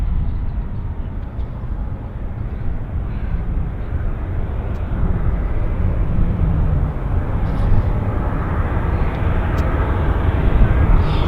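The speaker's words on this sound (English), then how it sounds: "Joe, I like the new Air Canada livery too." Air Canada airliner at Vancouver Airport, a steady broadband jet roar that grows slightly louder toward the end, with a low rumble underneath and no voices.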